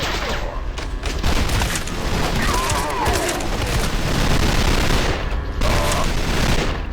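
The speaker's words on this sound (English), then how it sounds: "you don't need to be accurate when you've got 100 rounds firing down range" Akimbo miniguns fire a continuous roaring barrage in the shooter Trepang2, a dense unbroken rattle with booming impacts throughout, loud and close, with brief dips in intensity.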